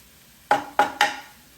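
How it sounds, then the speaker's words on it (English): Spam fried rice being stirred in a Power XL cooker: three sharp scrapes or knocks of a utensil against the pot, evenly spaced, close and clear with nothing else around them. "Just stir that up a little."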